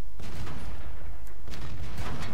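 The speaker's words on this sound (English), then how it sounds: "And he's trying to fire high explosive." A World of Tanks cannon blast firing a high explosive shell, a sharp booming report followed by rumbling reverberation and a second heavy thump, loud and close with no talking.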